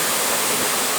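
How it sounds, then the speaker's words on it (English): A little waterfall beside a forested mountain road pours with a constant close hiss of falling water, alone with no voices. "There's like a little waterfall right here."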